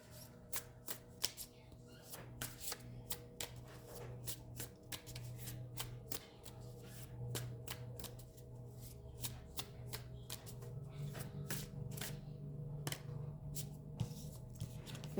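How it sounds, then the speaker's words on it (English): Oracle cards shuffled by hand in a quiet room, a long run of rapid, crisp riffling flutters and soft slaps repeating close by for the whole stretch, with no talking. "we're just going to pull some oracle cards"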